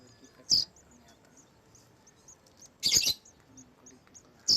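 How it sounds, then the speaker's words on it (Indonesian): Coconut sunbird chirping in short, bright bursts, with three quick calls spaced a couple of seconds apart over a faint, quiet background. "Ini kolibri kelapa."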